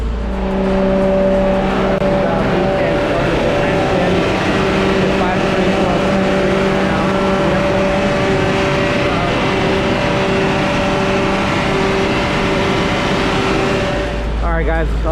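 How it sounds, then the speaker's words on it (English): A turbocharged car engine runs hard on a dyno with variable cam timing engaged, a loud, sustained drone with steady tonal harmonics throughout, dropping and shifting abruptly near the end. "We're going to get ready to turn on the V-cam now and get this thing to actually spool up properly."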